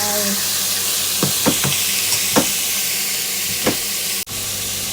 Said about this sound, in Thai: ลงไปผัด นะคะ จะเบาไฟนิดนึง ค่อยๆผัดไป